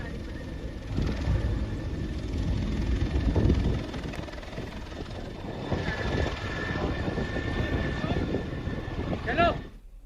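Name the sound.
helicopter showering flowers on pilgrims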